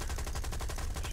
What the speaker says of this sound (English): shooting my gun there.